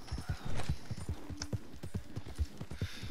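Horse hooves clip-clop at a brisk, steady walking rhythm in the video game Red Dead Redemption 2, close and prominent, with faint game ambience behind them.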